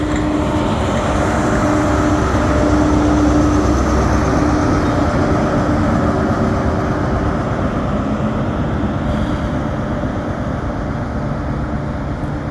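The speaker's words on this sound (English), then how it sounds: "Here comes the other power car." A train power car rumbles past at Edinburgh Waverley station, a steady loud broadband roar with a faint tonal hum that slowly eases off, heard alone without talk.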